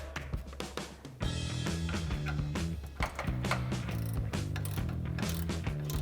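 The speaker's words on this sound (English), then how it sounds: "You can get in there with a 10mm ratcheting wrench." A 10mm ratcheting wrench clicks steadily while backing out headlight screws on a RAM 2500 pickup, close and dense rapid ratchet ticks running almost continuously with a brief pause.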